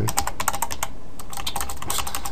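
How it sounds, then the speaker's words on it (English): Rapid typing of code on a computer keyboard, bursts of close, crisp key clicks with a brief pause midway, no voices. "I said function, so I started typing it"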